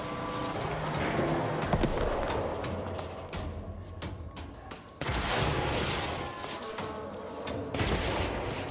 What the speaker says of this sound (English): I think they're shooting at him.